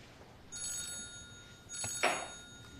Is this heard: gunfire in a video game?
no